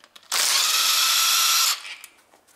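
A power tool whirs loudly in one sustained burst of about a second and a half, loosening a 12 mm bolt on the timing chain cover of a Honda Civic 1.8 engine, then cuts off.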